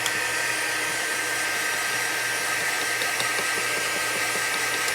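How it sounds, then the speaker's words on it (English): A hair dryer blowing steadily on chalk paste over an etched butterfly craft, a loud, even, unbroken whooshing hiss held close for several seconds with no talking. "I'm just going to dry this"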